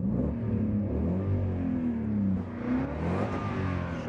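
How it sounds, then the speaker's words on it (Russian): A BMW E39 540i with a V8 revs up, its deep, smooth engine note climbing and falling in pitch as it accelerates, heard clearly up close with no talk over it. "Очень нравится, вот очень породистый V8."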